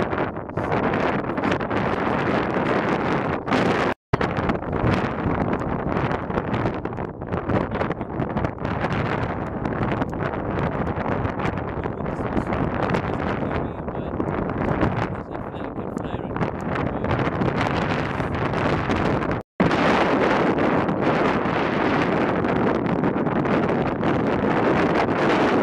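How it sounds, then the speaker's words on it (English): Strong outdoor wind roaring into the microphone, a loud, continuous buffeting rumble that fills the whole stretch with only two brief dropouts, and a voice talking faintly beneath it. "the wind is so strong"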